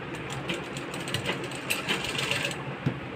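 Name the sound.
sewing machine stitching waistline belt blouse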